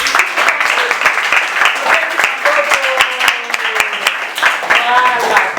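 A group of children at an orphanage clap in a brisk, regular rhythm. Many voices call out and sing along over the clapping throughout.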